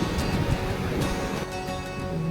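Wind-driven waves slosh and wash over the edge of the overflowing Dindi reservoir, a continuous close rush of water mixed with gusting wind noise.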